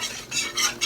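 A whisk scrapes and stirs flour into a thickening chicken alfredo sauce in a pan, giving close, continuous swishing with a few rhythmic strokes and clinks against the metal, with no talking.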